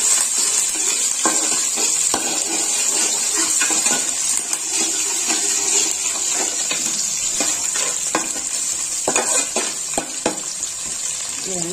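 Onions, dried red chillies and curry leaves sizzle steadily in a pan of hot oil for Nandyal-style uggani, with a continuous bright crackle and occasional scrapes and clinks of a stirring spoon against the pan.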